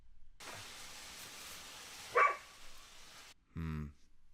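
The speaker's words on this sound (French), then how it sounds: "Cette plante aboie." A dog barks in a short burst near the end, after quiet rustling and a faint chirp in the background.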